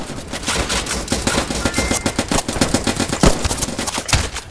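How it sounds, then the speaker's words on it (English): Machine gun fire rattles through a battle in the Roblox trench warfare game Trenches, with dense rapid bursts and overlapping shots close by, several sharp louder cracks standing out, and no talk. "some machine guns and stuff. I don't know how well you can hear that."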